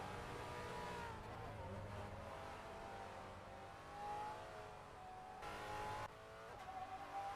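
A V8 race car slides around a circuit at the SRAC V8 Masters, its engine droning and rising in pitch with tire squeal, heard from a distance over steady track noise.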